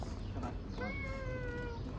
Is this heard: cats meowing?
yes